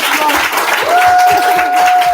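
Steady applause from an audience, a broad wash of clapping with a faint tone running underneath.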